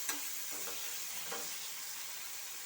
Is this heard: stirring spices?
yes